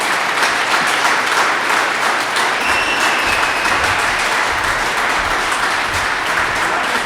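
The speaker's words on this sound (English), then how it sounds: "let's give him a nice round of applause" Sustained applause from an audience at a substance use addiction summit, steady and dense for the whole stretch, with faint voices mixed in underneath.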